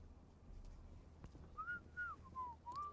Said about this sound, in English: Oh, I talked to him and he whistles.